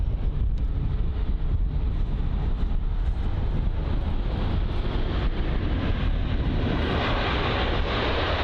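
Jet airliner at London Heathrow, likely an Airbus A350, with a steady loud broadband roar throughout, wind buffeting the microphone, and no voices.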